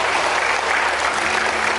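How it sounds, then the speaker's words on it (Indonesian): Dense, loud applause from a large crowd, continuous clapping filling the whole moment without a break. "Tepuk tangan dulu semuanya."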